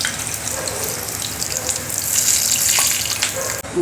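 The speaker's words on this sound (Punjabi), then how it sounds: "ਜੀਰਾ ਦੇ ਦੇਣਾ ਦੇ ਸਰੋਂ ਦੇ ਤੇਲ ਦੀ ਕਰੇਲਿਆਂ ਨੂੰ ਫਰਾਈ ਕਰ ਲੈਣਾ ਪਹਿਲਾਂ" Bitter gourd (karela) frying in mustard oil with cumin, a steady loud hiss and crackle of sizzling oil running throughout.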